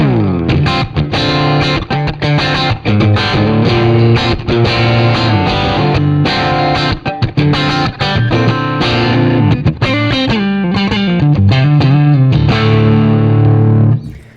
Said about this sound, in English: the second one, the crunch one, and let's go to the amp. This is using a Class A30